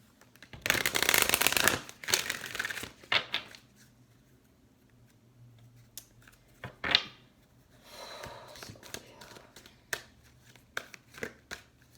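A long burst of tarot card shuffling up close, then quieter scattered taps and slides of cards on a surface.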